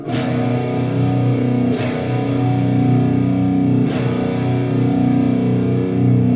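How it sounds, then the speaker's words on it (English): A sustained, heavily distorted chord on a 7-string electric guitar rings out loud and alone, restruck twice with sharp bright pick attacks. "Distorted, it sounds like this."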